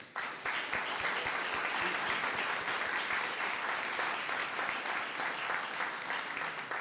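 Sustained audience applause welcoming guests at a ribbon-cutting ceremony for a training complex, dense clapping from a roomful of people that starts abruptly and holds steady for several seconds.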